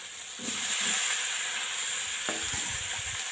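Green jackfruit and shrimp sizzle in hot oil with a bright, steady hiss, swelling as ingredients go in and stirring clatters underneath.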